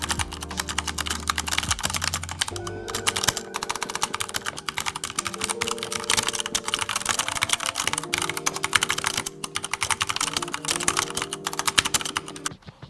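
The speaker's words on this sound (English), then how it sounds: "let's move on to the typing test on these two keyboards so you will get to hear how the linear and tactile switches" Fast, continuous typing on two hot-swappable mechanical keyboards with linear and tactile switches, including an Armaggeddon MKA-1C Neo, gives a close, dense clatter of keystrokes over several seconds.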